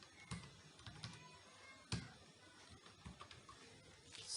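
Typing on a computer keyboard while entering an Excel SUM formula: quick, irregular keystrokes, close and fairly soft, with a couple of louder taps and no talking.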